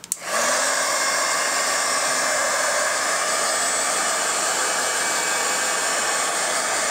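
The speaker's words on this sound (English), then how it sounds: "then we're going to hit it with the heat tool" A handheld heat tool starts with a click and then blows hot air in a loud, steady, close whoosh with a faint whine, lasting about seven seconds without talk.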